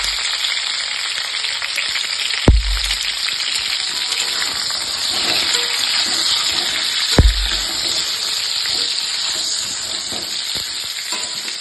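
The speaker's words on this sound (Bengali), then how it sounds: "দেখো পটলগুলো কিন্তু আমার প্রায় ভাজা হয়ে এসছে।" Pointed gourd (potol) pieces frying in oil in a pan, a steady close sizzle and crackle with two brief knocks of a utensil against the pan.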